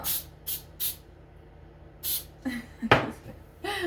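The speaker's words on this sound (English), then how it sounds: "I'm even going to spray it a little bit because I really just don't want it to stick" Several short hissing bursts of non-stick aerosol spray into a pan, three quick ones then another, followed by a clatter of the pan and light kitchen sounds.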